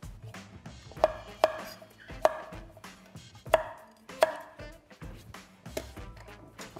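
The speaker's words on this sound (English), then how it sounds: "I'm cutting the veg quite small" A knife chops small pieces of vegetables for roasting on a cutting board, a series of distinct close, sharp knocks spaced irregularly, with no talking.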